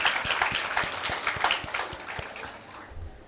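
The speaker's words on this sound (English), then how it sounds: "we can give a huge round of applause to ma'am" Scattered audience applause at a one-day national seminar in a college hall, individual claps audible in a loose rhythm, moderately loud and fading slightly toward the end.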